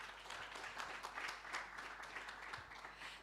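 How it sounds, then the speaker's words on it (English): Audience applause at a social performance forum, a steady, moderately distant wash of many hands clapping that continues evenly for the whole stretch. "Yes, some applause for SLB."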